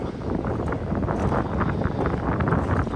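Steady wind buffeting the microphone, a dense low rumble with gusty swells that never lets up, no voices heard.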